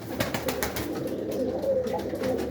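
Old pigeons cooing in a loft during breeding season, repeated soft throaty coos close by, layered over a low background murmur of birds, with no speech.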